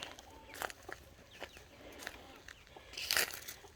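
Hens clucking in a farmyard, where a fluffy mother hen keeps three chicks; scattered soft clucks and short calls come faint and at a distance, with a louder burst near the end.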